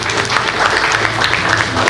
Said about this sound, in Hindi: एक बार जोरदार तालियां करना हो